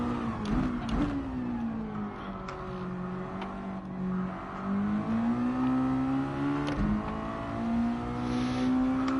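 A Mazda Miata race car engine in Gran Turismo 7 at Tsukuba drones steadily at close range, rising and falling as it revs through the gears, with brief clicks from shifts.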